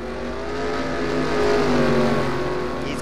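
A race car's engine drones steadily as it rolls down pit road at Indianapolis in a stock-car racing video game, its tone rising a little midway, with no voices over it.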